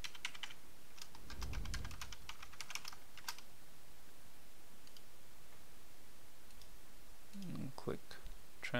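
Quick bursts of clicking keys as a password is typed on a computer keyboard, close and fairly faint, with a short pause between bursts and brief low voice sounds.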